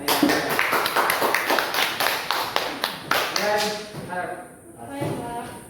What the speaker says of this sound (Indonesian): Berikan aplaus buat adik